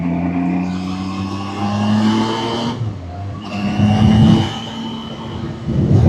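A 2025 Zontes 703 RR motorcycle engine drones loudly while riding, its tone rising through the revs, dipping briefly as the throttle eases, then pulling again, with rushing wind underneath.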